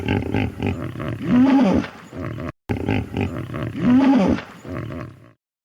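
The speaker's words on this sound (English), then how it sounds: "Correct. It's a hippopotamus." A hippopotamus gives deep, grunting roar-like calls in two matching bursts separated by a brief gap, each rising into a honking, wheezy stretch, loud and near with no voices.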